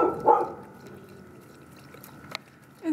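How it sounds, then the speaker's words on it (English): A neighbor's dog gives a sharp bark at the start, then a quieter stretch with a faint steady hum and a brief knock before a second bark begins at the end; no talking. "Ignore the neighbor's dog, it does that."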